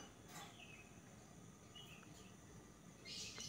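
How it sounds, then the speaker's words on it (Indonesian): Faint, thin chirps from small birds scattered over a quiet outdoor hush, with a brighter burst of calls near the end. "Terdengar suara burung-burung kecil bersaut-sautan menyambut datangnya pagi."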